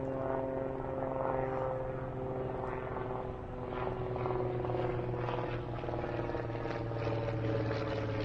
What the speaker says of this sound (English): Here again you hear the airplanes flying overhead right from the local airport.